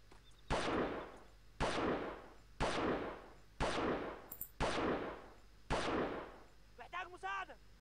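Pistol gunfire in the Delta Force video game: six sharp, evenly spaced shots about a second apart, each with a short echoing tail. A brief voice follows at the end.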